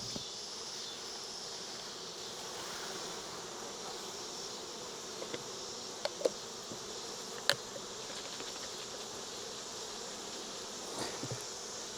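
Honey bees buzzing steadily as they are raked down the face of a hive comb into a half cup for a Varroa mite sample, a soft continuous drone with a few brief taps and clicks, no talking.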